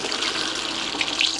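Warm tap water runs over snails being washed in a sink, a steady full rushing spray that fills the short moment on its own.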